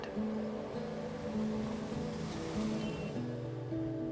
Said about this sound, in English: This is near the ocean.